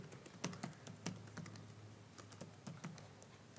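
Quiet typing on a computer keyboard while entering programming code, a string of soft, irregular key clicks with short pauses between bursts and nothing else audible.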